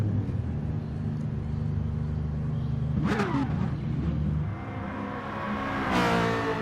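A race car in a racing video game revving and pulling away, a steady engine drone rising into a louder whining acceleration near the end, no talking.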